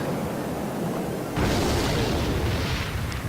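Rocket spell exploding in Clash Royale, a single sudden broad blast that cuts in over background game noise and holds as a loud rumbling burst to the end.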